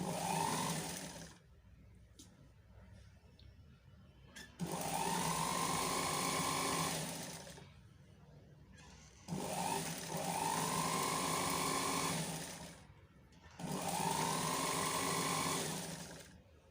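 A sewing machine stitches a fabric sleeve, running in four steady whirring bursts separated by short quiet pauses, close and alone with no talking.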